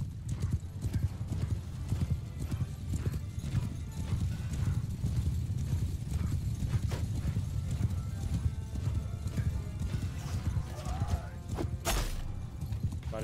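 Horse hooves in the video game Mount & Blade II: Bannerlord: a dense, steady clip-clop of many hooves throughout, with a horse whinnying near the end and faint battle noise underneath.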